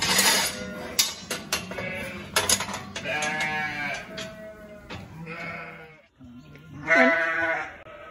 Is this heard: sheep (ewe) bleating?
yes